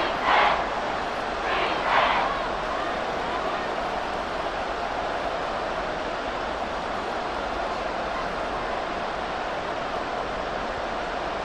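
Stadium crowd noise in the football video game Madden NFL 24, a steady loud roar filling the whole stretch, with a few brief swells near the start.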